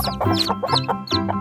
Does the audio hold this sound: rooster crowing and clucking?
yes